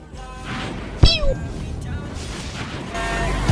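A single short synthetic meow from the game Mobile Legends rings out once, brief and clear, over a steady background hum.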